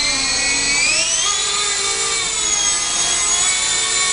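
A small Blade MSR X RC helicopter hovers with a high, buzzing rotor and motor whine, steady and close, pitch rising slightly early on.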